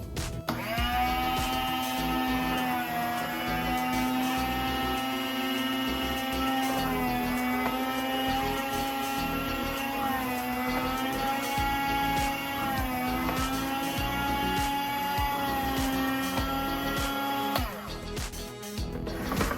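A motorized meat slicer cuts through a block of beef for jerky, giving a steady, close, droning whine with a whirring mechanical hum. The pitch rises and falls with each pass and then stops near the end.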